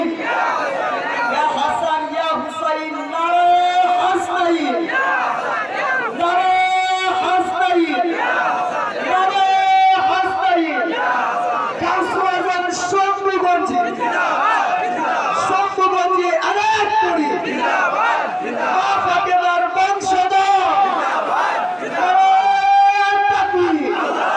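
A large crowd at an outdoor Islamic religious gathering roars a rhythmic takbir chant in repeated loud bursts, many voices shouting together in call-and-response fashion throughout.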